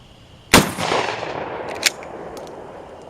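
Mossberg 500 pump shotgun firing a 1-ounce 50-caliber sabot slug outdoors, one sharp, loud blast followed by a rolling echo and a second fainter crack about a second later.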